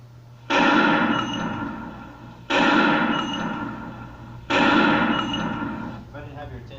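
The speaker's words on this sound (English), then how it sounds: "There's gonna be some gunshots." Recorded gunshots play back loudly to an audience at a general assembly, three sharp booming bangs spaced about two seconds apart, each with a long decaying echo, followed by a faint voice.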